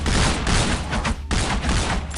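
Dense, continuous gunfire from the video game Counter-Strike Nexon: Studio, a loud rapid fusillade that keeps going with only a brief gap partway through.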